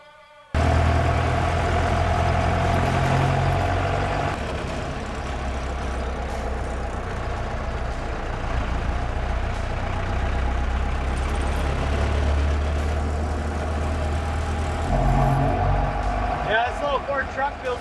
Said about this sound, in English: So let's get this thing down, lock the hood down on it, and take this baby for a ride.